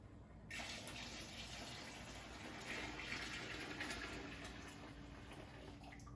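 Beer pouring into a pot with sugar, a steady, continuous gushing stream that starts abruptly and runs on, moderately faint and unbroken.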